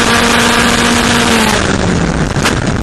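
Onboard a Historic Formula Ford race car at Silverstone in 2014, the engine drones loudly and steadily, its pitch easing down slightly as the car lifts off, with constant wind and road noise.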